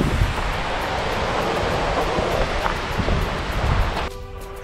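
The Lentilla river, a mountain stream on the Canigou circuit, rushes continuously beside a green hiking path as a loud, dense, even wash of water that softens slightly near the end.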